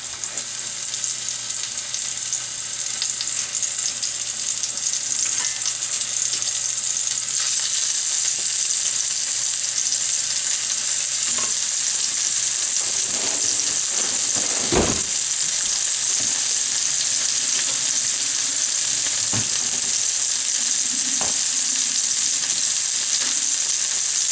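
Pork chops sizzle steadily in a hot pan, a bright constant crackle close by, with occasional clinks and scrapes of a utensil.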